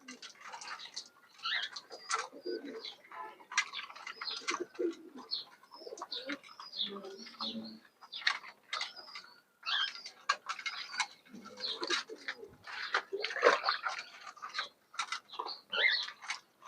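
Pigeons coo and flutter inside a coop during hot weather, with dense, busy calls and soft rustles running steadily at close range and no talking.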